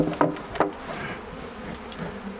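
A honey bee swarm buzzes in a blood orange grove: a dense, close hum with two sharp knocks near the start, then the buzzing carries on steadily.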